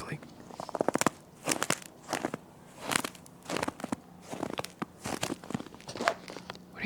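Outdoors, ice and snow are brushed up close, giving crisp crinkling and crunching scrapes in irregular bursts, with soft whispered talk throughout.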